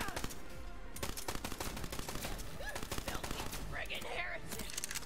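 Rapid gunfire in the shooter game Borderlands 3 crackles in dense bursts through most of the stretch, fairly loud and continuous, with a brief lull near the end.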